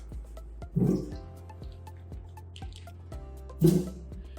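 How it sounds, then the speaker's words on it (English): Two soft splashy plops as potatoes drop into a big pot of water, amid faint clinks and drips. "We're going to put them in our water and in our big pot."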